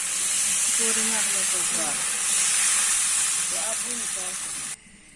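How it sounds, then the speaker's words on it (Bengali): A little water hits a hot pan of fried taro flowers, raising a loud hiss of steam and sizzle that runs steadily and then cuts off abruptly near the end, with faint voices in the background. "এখন দিয়ে দিচ্ছে সামান্য জল।"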